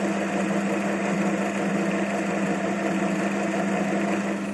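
A Parkside PTBM 550 A1 belt-driven desk drill runs steadily with a continuous motor and belt hum, loud and close, with no talking.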